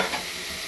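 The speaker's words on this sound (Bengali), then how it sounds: "বাড়িয়ে দিয়ে খুব ভালো করে কষবো যতক্ষণ না কাঁচা গন্ধটা দূর হয়।" Spices for vegetarian ghugni sizzle and are stirred in a hot pan, a steady, dense frying hiss with faint scraping, close and continuous with no talking.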